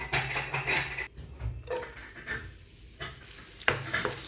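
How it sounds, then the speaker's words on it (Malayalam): Chopped garlic dropped into the leftover oil from frying chicken in the same pan, giving bursts of sizzling and stirring scrapes, uneven and moderately quiet, with a short lull in the middle. "ഇനി ചിക്കൻ ഫ്രൈ ചെയ്ത ആ പാൻ തന്നെ വെച്ചിട്ട് ആ എണ്ണയിൽ തന്നെ ഈ വെളുത്തുള്ളി ഇടുക."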